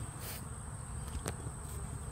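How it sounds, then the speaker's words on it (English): Wasps and bees buzz steadily around a fig tree outdoors, a soft continuous insect drone with a few closer passes standing out briefly, no talking. "And wasps are in here too."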